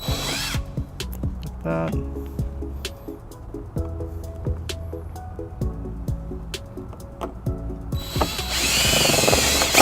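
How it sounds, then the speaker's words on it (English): A power drill bores holes for trailer wiring on a 2010 Kia Soul: close, repeated short whirring bursts with clicks between, ending in a louder sustained drilling run, with a brief spoken remark. "we got our holes drilled"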